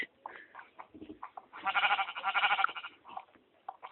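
Sheep in Minecraft bleat in a wavering, quavering call that swells in the middle, with softer scattered bleats before and after.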